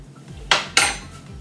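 A frying pan handled with olive oil: two sharp metallic clanks in quick succession, close and bright, with a short ringing decay and nothing else around them.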